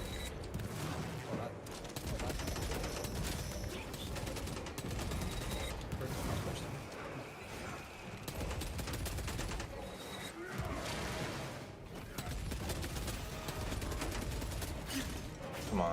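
Combat artillery in the Warhammer 40k Space Marine 2 multiplayer game sounds as dense, continuous battle noise: bursts of gunfire, mechanical clatter and repeated impacts layered throughout, loud and busy with no pause.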